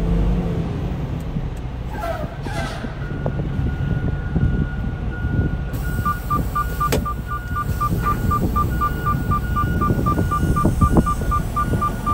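A truck backs a double trailer toward the fifth wheel, its reversing alarm beeping steadily at a regular pace over a low engine rumble and wind noise.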